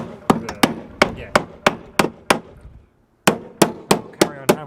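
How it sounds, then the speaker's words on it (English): Sharp metallic hammer blows on a car's body panels during a widebody conversion of an Audi mk2 TT, about a dozen close strikes in a steady rhythm with one short pause. "I'll carry on hammering and show you the end result"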